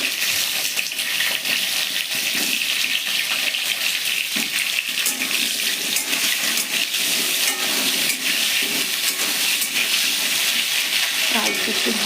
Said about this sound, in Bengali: পটলটা আমার ভাজা হয়ে এসছে একটু, তো আমি এর মধ্যে আলু দিয়ে দেবো